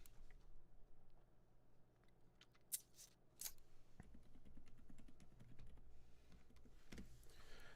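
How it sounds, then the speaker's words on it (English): Faint typing on a computer keyboard picked up beneath a microphone, with quiet irregular clicks and a few sharper taps scattered over several seconds and no talking. "I'm trying to type under my microphone."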